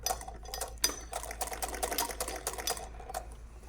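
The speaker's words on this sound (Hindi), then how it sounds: "बारीक सिलाई कर रही हूँ मैं बिल्कुल कोने से" A sewing machine runs fine stitches along the very edge of a sleeve while elastic is being attached, giving a steady close whirring with small clicks and taps, alone for several seconds.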